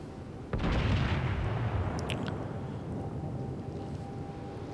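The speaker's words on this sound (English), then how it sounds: "Everybody starts firing at that destroyer. You see rounds and rounds and rounds going off at this one guy" Warships in the World of Warships video game open fire on a destroyer: a heavy booming burst breaks in, then a dense rolling rumble of gunfire carries on loudly to the end, with a few sharp metallic pops along the way.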